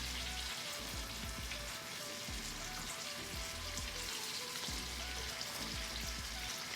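Food sizzles steadily in a frying pan, a constant crackling hiss with occasional soft pops, close and even throughout.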